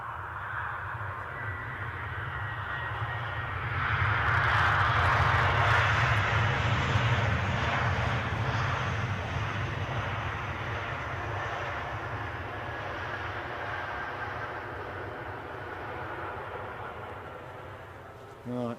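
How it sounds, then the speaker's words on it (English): A Ryanair jet airliner arriving at Edinburgh airport, a broad steady engine roar that swells toward a peak and then slowly fades, heard from a distance outdoors. "that's a Ryanair."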